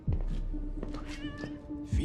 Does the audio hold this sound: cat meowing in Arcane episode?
yes